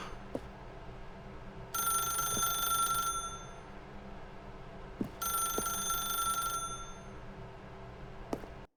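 An old-fashioned telephone bell rings in The Stanley Parable: Ultra Deluxe video game, two bright ringing bursts about two seconds long with a pause between, over a quiet ambient hum.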